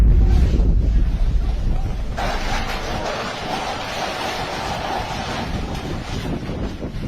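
Strong tornado winds sweep across a fishing pond, tearing at the roofs of the anglers' stalls with a loud, steady roar and gusting rumble that carries on without pause.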